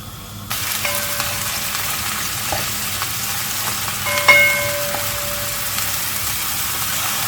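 Onion simmers in a pot for a lamb leg dish, a soft continuous sizzle and hiss that holds evenly throughout, with a few faint tonal beeps rising over it.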